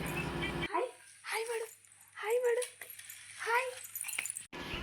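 A young puppy whimpers and yips in a few short bursts at close range while playing with a child, with quiet gaps between the cries.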